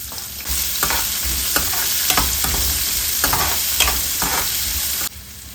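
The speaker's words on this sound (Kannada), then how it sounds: "1 ಗಡ್ಡೆ ಚಿಕ್ಕದಾಗಿ ಈರುಳ್ಳಿನೂ ಕೂಡ ಹಚ್ಚಿಟ್ಕೊಂಡು ಇದಕ್ಕೆ ಸೇರಿಸ್ತಾ ಇದ್ದೀನಿ ಫ್ರೈ ಮಾಡಲಿಕ್ಕೆ." Onion, green chillies and curry leaves frying in a pan for a village-style egg sambar, a loud steady sizzle punctuated by regular scraping stirs for about five seconds before the hiss drops away.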